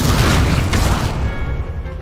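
An Incendio fire spell blasting in Hogwarts Legacy on PS5, a single loud whooshing boom that rolls out and fades over about two seconds.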